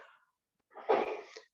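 A single short sneeze bursts out after a brief silence, close and moderately loud, preceded by a faint breathy sound.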